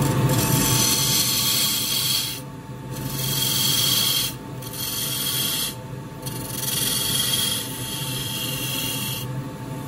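A dust extractor runs steadily during wood turning of a grasstree hut box on a lathe. Its broad hiss is heard close up, with periodic scraping and rasping of the tool on the workpiece and brief dips between passes.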